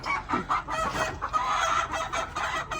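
Sweater McLean gamefowl rooster clucking close by, a quick run of short, uneven throaty clucks packed into a few seconds.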